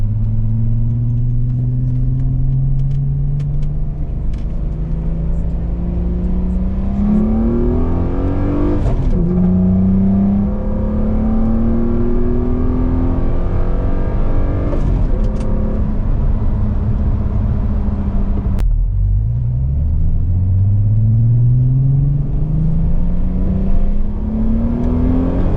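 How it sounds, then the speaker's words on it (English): From inside a Volkswagen Mk3 Jetta with a VR6 engine and aftermarket intake, the engine revs loudly through several gears, each rising pull followed by a shift and drop, with a sharp click near the end. "the VR6 sounds pretty spicy"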